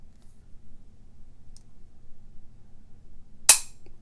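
A Smith & Wesson 1911 E Series pistol dry-fired, giving a single sharp metallic trigger click in otherwise near silence.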